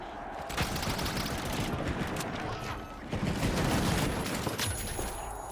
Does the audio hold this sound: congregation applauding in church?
no